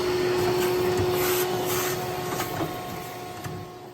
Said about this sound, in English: we do recommend that you use an ash vacuum when you're doing any work on a wood fireplace